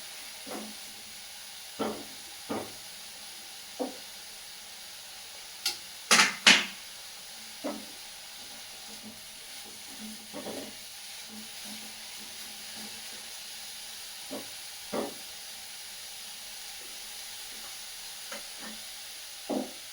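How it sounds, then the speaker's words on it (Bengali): Eggplant slices frying in oil in a home kitchen give a faint, steady sizzle with scattered soft crackles and pops spread through the stretch, and no one talks. "এই যে বেগুন ভাজাগুলো বসিয়ে দিয়েছি, আর যা তেল দিলাম সমস্ত তেল টেনে নিল।"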